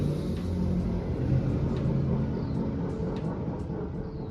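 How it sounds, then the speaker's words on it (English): A 20 horsepower motorbike running somewhere in the background, heard as a low, steady engine rumble with mild swells. It is fairly faint and continuous, and no voices are heard over it. "ripping the 20 horsepower bike in the background."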